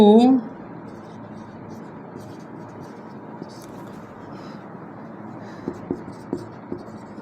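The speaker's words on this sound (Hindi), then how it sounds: "तो यहाँ लिख लेंगे समद्विबाहु" Chalk or marker writes on a board during a geometry lesson on an isosceles triangle, faint scratchy strokes and soft taps under steady background hiss, with a voice heard briefly at the start.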